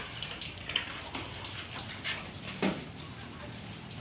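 Running water splashes and patters during washing, with occasional clinks and a voice speaking faintly beneath.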